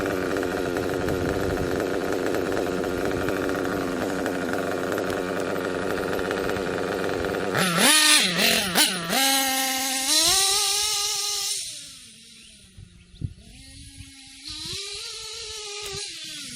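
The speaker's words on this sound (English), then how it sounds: "the engine tried to cut out just a little bit, so we're too lean on the high speed" A small high-pitched nitro engine running lean on the high-speed needle buzzes steadily, then revs sharply in a few bursts and drops back to an uneven idle that sags and stumbles, nearly cutting out.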